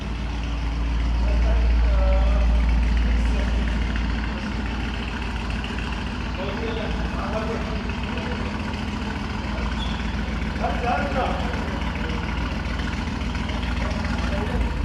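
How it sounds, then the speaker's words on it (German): A Bentley Bentayga engine idles close by in a showroom, a deep, steady rumble and low continuous drone with a brief louder swell early on, while people talk over it. "Bentley Bentayga. Der Sound ist einfach nur geisteskrank."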